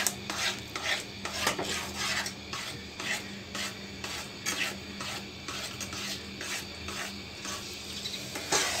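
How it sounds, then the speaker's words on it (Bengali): Thick palm halwa is stirred in a pan, with a steady series of rubbing, scraping strokes of a spoon against the metal, rhythmic and close, over a faint background sizzle. "এখন এটাকে আমি আরও নাড়তে নাড়তে একদম শক্ত শক্ত করে ফেলব।"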